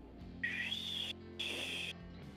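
A person whistles in imitation of a boiling kettle, two sustained high shrill tones with a slight upward slide, each about a second long, close and clear over quiet background.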